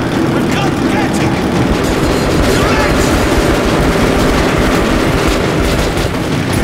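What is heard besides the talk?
train passing in the video game Metro Last Light Redux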